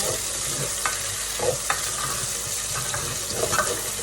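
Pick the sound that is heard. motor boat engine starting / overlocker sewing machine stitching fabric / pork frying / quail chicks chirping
pork frying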